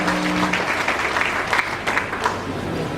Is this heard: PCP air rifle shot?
no